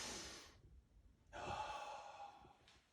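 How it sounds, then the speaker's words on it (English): Person taking deep breaths during a breathing exercise: a quick airy breath, a pause, then a long, close exhale with a faint whistle through it. "I want you to take a deep breath and go."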